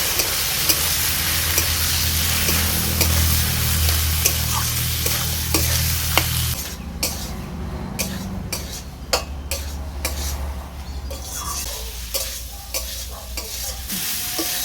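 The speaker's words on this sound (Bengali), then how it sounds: "মশলার সাথে ছোলাটাকে আমি বেশ কিছুক্ষণ কষিয়ে নিয়েছি।" Boiled chickpeas stirred and sautéed with spices for a chana and soybean ghugni, loud steady sizzling with repeated spoon scrapes against the pan, a low rumble early on, no talking.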